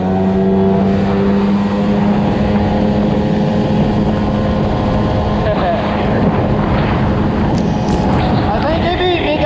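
Several 1995 Sea-Doo XP personal watercraft race side by side, their engines droning loud and steady with rising and falling pitch as they run across the water, with a voice or two heard over the engine noise.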